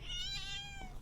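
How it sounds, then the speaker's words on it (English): A calico cat gives one drawn-out, slightly wavering meow, close and clear against a quiet room with faint background noise. "This is a beautiful little calico."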